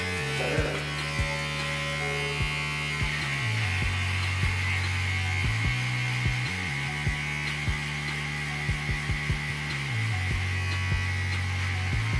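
Electric hair clippers buzz steadily and close while cutting a two-block haircut line, with a constant motor hum and repeated brief dips as the blades move through hair.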